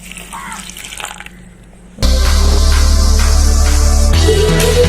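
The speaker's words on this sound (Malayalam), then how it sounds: "ഇനി ഇതിലോട്ട് 1/2 ഗ്ലാസ് വെള്ളം." Water poured from a glass into a pot while making hibiscus and butterfly pea flower pudding, a loud steady splashing rush that starts abruptly and continues close up without talk.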